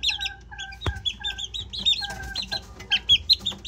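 Four-month-old McLean x Miner blue gamefowl chicks cluck and peep in quick, close chirps, with one sharp knock partway through and no talking.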